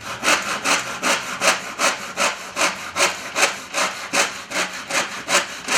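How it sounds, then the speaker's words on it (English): A tenon saw cuts through reclaimed wood for a boot rack in about a dozen even back-and-forth strokes, each rasping loudly and close up, with no talking. "The saw has the teeth will do the cutting for you."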